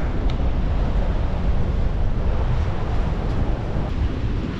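Steady, loud roar of ocean surf washing against a rocky, wild coastline where goats roam, a continuous broadband wash with gusty wind buffeting the microphone throughout and no voices.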